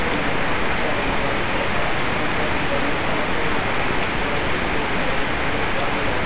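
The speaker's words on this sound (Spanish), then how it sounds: "Y la lluvia continúa." Steady rain falls during a winter storm in Camoapa, a dense, even hiss that holds at a constant level throughout with no distinct drops or breaks.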